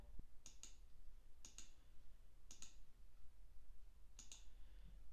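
A computer mouse clicks in four paired bursts, crisp, close and evenly spaced over a low steady background hum, with no one speaking.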